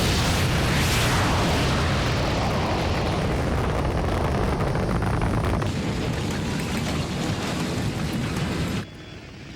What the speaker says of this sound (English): Separation successful, firing booster rockets